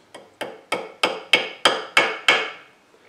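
Eight sharp metallic taps in a steady rhythm as a part of a die-cast Dinky Avro model is hammered down, close and crisp, each strike decaying quickly.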